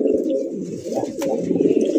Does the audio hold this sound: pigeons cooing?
yes